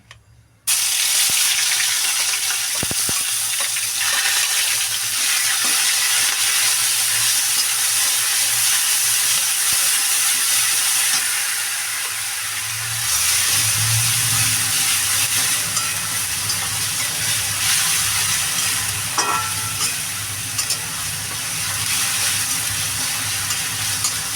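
Onion goes into a pan of frying rohu fish curry with mustard and tomato, and a loud, continuous sizzle runs throughout, swelling with a fresh burst of crackling partway through.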